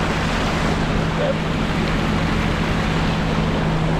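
A Ford Explorer wading through deep sea water on a flooded island road makes a continuous loud wash of splashing and churning water over a steady low engine hum, constant throughout and with no talking.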